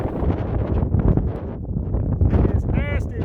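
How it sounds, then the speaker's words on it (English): Strong winter wind buffets the microphone near the summit of Cascade Mountain in the Adirondack High Peaks, a loud continuous roar and rumble with gusty swells throughout and a brief whistling tone near the end. "It's nasty windy up here on Cascade, almost to the top."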